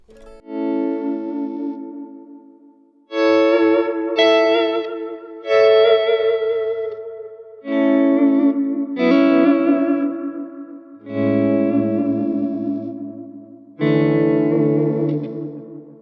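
An electric guitar plays sustained chords washed in ambient pedal effects, each swelling and ringing with a shimmering, echoing tail.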